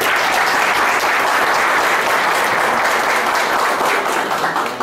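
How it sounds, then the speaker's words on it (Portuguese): A crowd at a municipal party convention in Paulista, Pernambuco, applauds a candidate with loud, sustained, dense clapping that holds steady for nearly five seconds and eases slightly at the end. "a quem eu peço uma salva de palmas"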